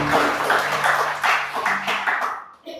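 Congregation clapping hands together at a church service, a steady run of applause with rhythmic bursts that fades near the end.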